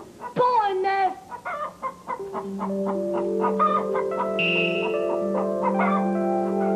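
A hen clucks in a quick series of calls near the start, then steady sustained tones carry on to the end.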